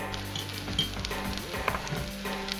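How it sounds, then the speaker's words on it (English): Wheat gluten seitan fries in oil in a pan with a steady close sizzle. Light scraping and stirring clicks sound over the frying. "So here I am doing my frying."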